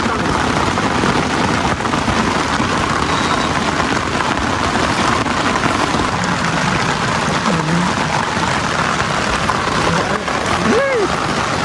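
Dense, loud, unbroken roar of heavy rain pouring down close by, hitting like stones, a constant wash of noise with no pauses.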